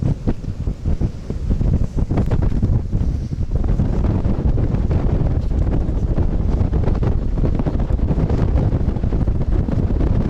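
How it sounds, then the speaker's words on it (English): Heavy wind buffets the microphone outdoors in Japan with the ocean close by, a loud, continuous rumbling roar that fills the whole stretch. "That's why it's windy. The ocean's like right there."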